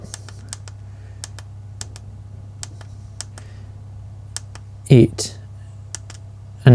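Buttons pressed on an Hcalory Toolbox MAX diesel heater controller give sharp, evenly spaced clicks, close and clear, with a speaker's voice breaking in briefly.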